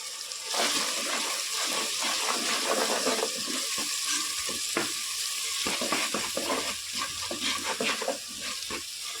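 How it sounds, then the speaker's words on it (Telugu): Masala paste is stirred into tomatoes and onions frying in oil for a restaurant-style mushroom curry, with a steady close sizzle broken by scraping spoon strokes against the pan. "ఇప్పుడు గ్రైండ్ చేసి పెట్టుకున్న పేస్ట్ కూడా కలుపుతున్నాను"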